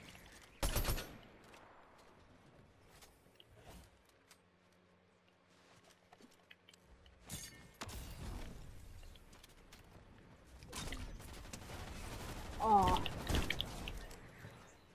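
Snowball launcher firing in Fortnite during Winterfest 2023, a few sharp bursts and thumps spread through a quiet stretch, with louder clustered impacts toward the end over faint game ambience.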